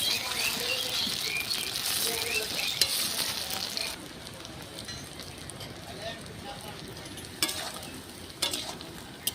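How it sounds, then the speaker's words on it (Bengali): Potato pakoras fry in hot oil with a bright, steady sizzle that grows quieter partway through, joined by occasional stirring clicks and scrapes close by. "পকোড়াগুলি পুরো লাল লাল করে আমি ভেজে নিয়েছি"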